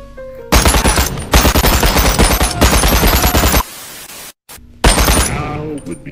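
Rapid video game gunfire in long, loud automatic bursts separated by brief gaps, then an abrupt cutoff and a short final burst, with a person speaking partway through.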